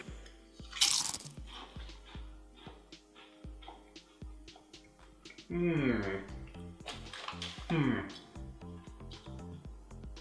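Lay's sandwich-flavored potato chips being bitten and chewed close up, sharp crisp crunches in bursts with quiet pauses, while people talk intermittently.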